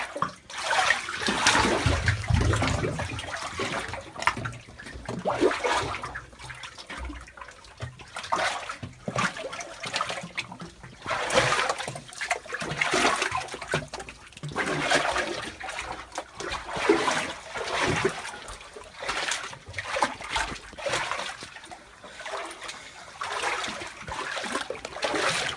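Water from the Ain al-Mazraa spring running through a channel, a continuous gurgling trickle with splashy surges that rise and fall throughout.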